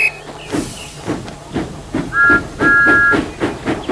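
A steam locomotive chuffs in a steady, rhythmic beat with hissing steam bursts, and a short whistle blast sounds twice midway, loud and close.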